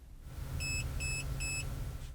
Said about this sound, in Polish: O każdej zmianie urządzenie poinformuje nas 3 sygnałami dźwiękowymi.